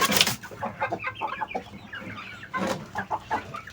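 Hens clucking in a coop, crossbred laying hens mixed with bangkok chickens, a close, busy run of overlapping clucks and short calls with no speech.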